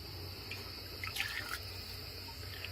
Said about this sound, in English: I will be adding water to this soup